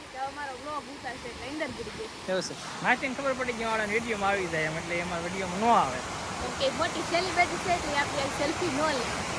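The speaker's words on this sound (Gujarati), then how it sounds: "અહીંયા ધોધ છે ને અવાજ બહુ આવે છે" Steady roar of the Giri waterfall in Dang, Gujarat, rushing nearby, with someone talking over the constant water noise.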